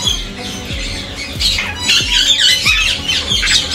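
Sun, Jandaya and green conures at a breeder's aviary squawk loudly and repeatedly, shrill overlapping calls filling the whole stretch up close with no talking.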